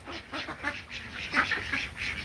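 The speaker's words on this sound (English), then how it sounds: "And the ducks are just enjoying it." Ducks quack repeatedly outdoors by tall trees after being fed, a close, busy chorus of short overlapping calls with no talking.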